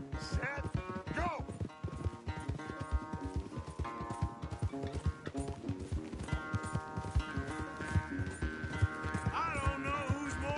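Horse hooves clip-clopping in the video game Red Dead Redemption 2, a quick steady gallop rhythm heard under a bed of game music.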